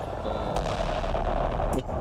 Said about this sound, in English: That was like a SpongeBob explosion.